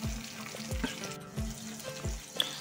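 Onions frying on a medium flame for biryani, a steady sizzle with rhythmic stirring scrapes repeating about every half second, close and alone without talk.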